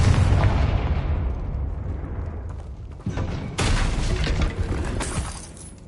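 A Confringo fire spell blasts in Hogwarts Legacy, a loud explosive boom that rolls away into a long fading rumble before a second burst erupts at about three and a half seconds and trails off.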